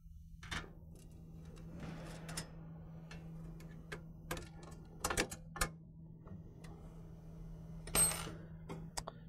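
Supplied hardware is bolted down to fasten an air filter adapter on a 2014-18 RAM 2500/3500 6.4L air intake. Sparse, close metallic clicks and clatters are spread over a quiet background.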